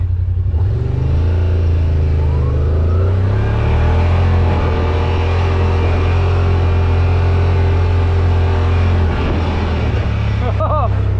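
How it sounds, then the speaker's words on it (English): Yamaha Rmax 1000 side-by-side launching in sport mode on a swampy trail, the engine revving up into a loud, steady, close rumble that lasts throughout, with a voice speaking over it near the end. "We may have to do a quick little launch though in sport mode."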